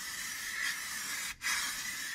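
A spray paint can hisses in a long, steady burst while painting a 1968 Newport interior. There is one brief gap partway through, then the spray resumes strongly.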